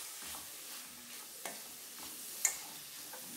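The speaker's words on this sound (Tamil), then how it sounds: "மசாலாவோட பச்சை ஸ்மெல் போற அளவுக்கு நல்லா வதக்கிட்டு" A spice masala with garam masala, chilli powder, turmeric and salt is stirred and sautéed in a pan, giving a faint low sizzle with soft scraping strokes and a couple of sharper taps of the spoon; no voices.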